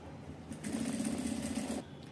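A sewing machine stitching a seam in fabric: a close, steady mechanical whir about a second long that speeds up, holds an even pace, then stops.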